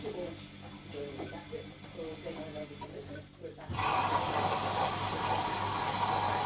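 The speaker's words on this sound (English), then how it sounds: "It tumbles. I bet it's rinsing out the softener." A Bosch washing machine tumbling, then surging into a loud steady rush of water as it rinses out the softener, the noise close and filling the second half after quieter churning.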